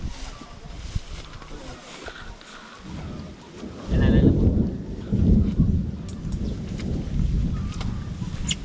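A thunderstorm with rain: a low roll of thunder swells near the middle over a steady wash of rain, while voices talk faintly in the background.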